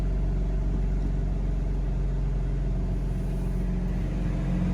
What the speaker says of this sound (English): Sounds great with the stock exhaust, and I do believe the valves are open,